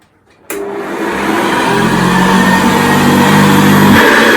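A 1978 Hoover Senior Exclusive U4058 upright vacuum cleaner, restored after repair, switches on with a sudden loud whir and keeps a steady motor drone while pushed across carpet, a low roller hum rising partway through.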